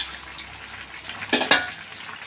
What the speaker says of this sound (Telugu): ఇప్పుడు టమోటాలు వేసుకుంటున్నా.